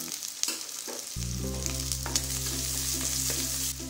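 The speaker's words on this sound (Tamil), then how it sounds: "இப்போ வெங்காயம் பச்சை மிளகாய் வதங்கிடுச்சுங்க" Steady, loud frying sizzle of onions and green chilies in a pan with a constant low hum, punctuated by occasional stirring scrapes; no voices.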